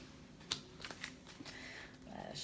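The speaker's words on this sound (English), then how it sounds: "Let's shuffle." Tarot cards are shuffled at close range, soft riffling and a few crisp snaps and flutters, quiet and intimate with little else around them.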